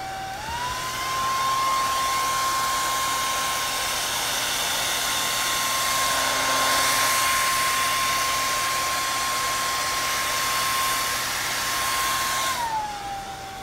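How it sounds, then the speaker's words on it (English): A hand-held blow dryer fitted with a crooked, re-taped concentrator nozzle blows out poured acrylic paint with a steady, loud high-pitched whine, running continuously with a brief change in pitch at start-up and shutdown. "The concentrator on my blow dryer, when I redid the tape on it, I think I put it on crooked."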